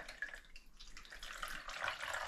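Melted beef tallow and water dripping through a filter while the fat is purified, giving a faint, steady trickle with soft splashy drips and no voices.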